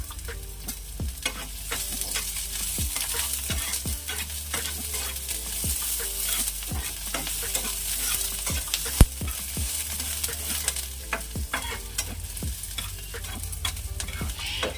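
Onion and a dried red chilli fry in hot mustard oil, making a steady close sizzle, while a spoon scrapes and stirs through the pan in repeated knocks and scrapes; there is no talking.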